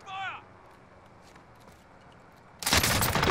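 LMG machine gun firing in the Warzone video game, a brief loud burst of rapid shots arriving near the end after a short synthetic chime and a quiet stretch.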